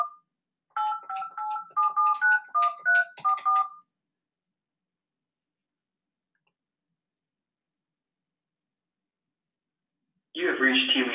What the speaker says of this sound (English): I'm going to dial this number